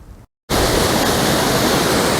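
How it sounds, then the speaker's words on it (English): East Dart waterfall on Dartmoor, a steady loud roar of rushing water that starts abruptly after a brief silence and holds constant and close. "the waterfall is much more impressive than it was last time I came this way"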